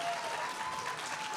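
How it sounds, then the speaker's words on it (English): A short burst of steady audience applause fills an author talk, a dense, even patter of many hands clapping without voices over it. "Can we give him a round of applause?"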